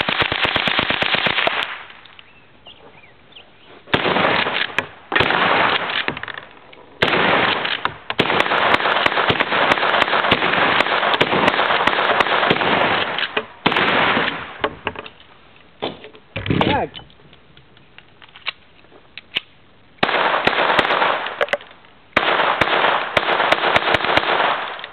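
Guns firing shells outdoors, loud sharp bursts of shots in clusters separated by quieter gaps, with people talking between volleys.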